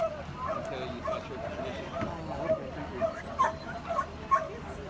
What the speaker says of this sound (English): That would be my dog that's barking.